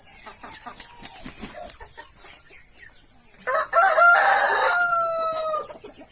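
Pure Shamo roosters of Putaco lines crow on a farm, one long loud crow rising near the end after a run of short clucks and sharp calls from the flock.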